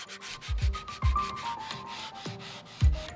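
Thick wood stock is sanded by hand in short, uneven scrubbing strokes, with soft thumps of the sanding block at irregular intervals, close and fairly quiet with no talking.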